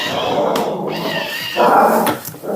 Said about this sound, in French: c'est le chien qui râle